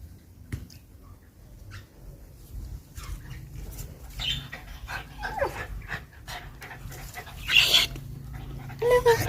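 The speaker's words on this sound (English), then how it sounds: "And the little doggies." Small dogs pant and whimper indoors at home, with quick breathy bursts, faint whines and occasional scuffling close to the microphone, and a voice heard briefly.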